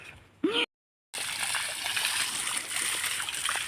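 Water splashes and pours steadily over a cow being bathed outdoors near a coconut tree, a continuous close sloshing wash after a brief pause.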